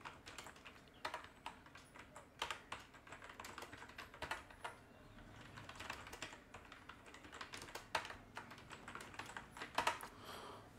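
Someone types on a computer keyboard while writing in Google Docs, with quick irregular key clicks in bursts, close and fairly quiet, with no talking.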